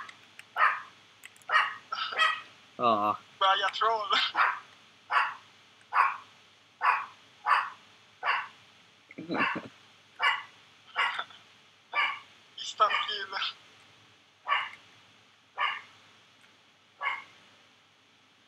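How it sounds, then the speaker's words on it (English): Dog in a Minecraft-style survival game barking repeatedly in a steady series of sharp, moderately loud yaps, with a few excited voices talking over them. "Shut up, dog!"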